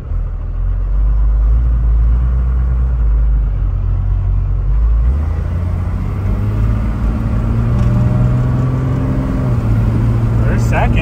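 An abandoned first-generation Dodge D350 truck with a Cummins diesel, unmoved for five years, drives with a loud, steady, rumbling engine drone from inside the cab, and its pitch rises partway through as it speeds up.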